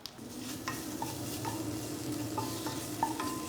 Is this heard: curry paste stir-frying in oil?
yes